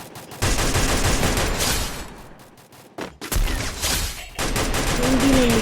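Loud, dense gunfire from a video game fills the clip, bursts of rapid shots with a brief lull in the middle, the sniper-heavy battle carrying a faint voice underneath.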